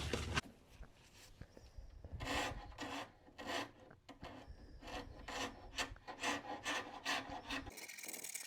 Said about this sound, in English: comes off really easy with a scraper.